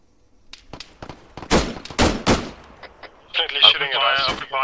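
Shooter's gunfire in the video game Arma 3, a series of sharp, loud cracking shots in uneven bursts, followed by a harsher sustained burst of noise near the end.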